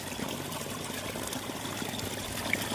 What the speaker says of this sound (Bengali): এখানে স্রোত আসছে, স্রোতে মাছটাই নেটের নিচ থেকে যাচ্ছে